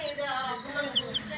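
Young chicken chicks give two brief, high peeping chirps, faint beneath a person talking nearby.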